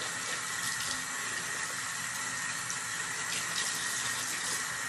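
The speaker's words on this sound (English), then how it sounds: "I'm going to wash it, rinse it in the face bowl really well." Steady running water from a tap filling a bathroom basin while a cloth face mask is rinsed in it, a continuous close splash and hiss with no speech.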